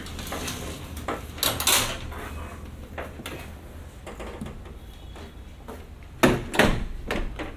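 Side gate on a vintage Reliance service elevator in Chicago sliding shut: metal rattles and clanks early, then a hum of machinery, then a sharp, louder clack as it closes near the end.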